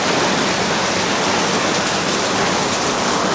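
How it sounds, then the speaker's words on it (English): Heavy rain pours down steadily as a dense, continuous hiss with no breaks, loud and close, sounding almost like a waterfall, with no voices. "it's raining a little hard"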